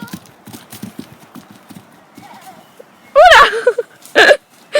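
A horse canters toward jumps in a riding session, its hoofbeats a soft rhythmic clip-clop, followed by loud snorting breaths and a whinny-like burst close by.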